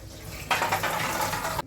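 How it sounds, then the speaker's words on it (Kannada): Water pours off soaked kabuli chickpeas being drained in a kitchen, a sudden steady splashing gush that starts abruptly and runs for about a second before cutting off, close and fairly loud. "ಈಗ ನೀರು ಬಸ್ಕೋತೀನಿ ರೀ"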